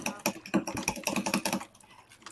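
Rapid, dense clatter of computer keyboard keys and mouse clicks during a Minecraft survival game, loud and close for about a second and a half before easing into quieter scattered taps; no talking.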